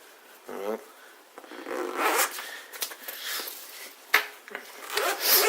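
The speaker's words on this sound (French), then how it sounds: "C'est de la grosse fermeture éclair." A heavy-duty zipper on a survival kit bag is pulled open in several quick raspy bursts, close and crisp, with handling rustles between the pulls.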